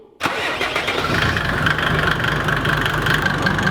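A Mercedes engine sprayed with ether fires up abruptly and settles straight into a steady, rough idle, loud and close, with no voices over it.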